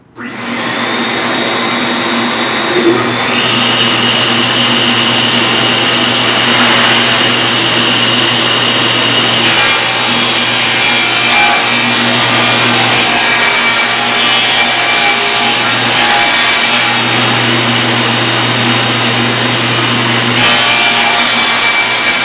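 A power saw runs loud and close while cutting 7/16-inch plywood for a roof piece, a sustained high whine with grinding wood noise that shifts in pitch as the blade loads and eases.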